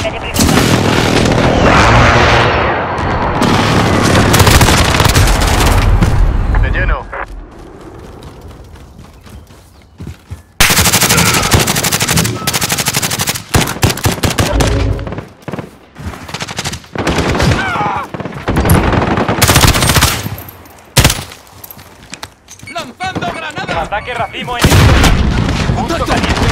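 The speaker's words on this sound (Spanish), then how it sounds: "¡Ataque aéreo de precisión!" Explosions from a precision airstrike in a military video game, with dense bursts of gunfire and booming blasts filling the scene loudly and almost continuously, while voices shout over the combat.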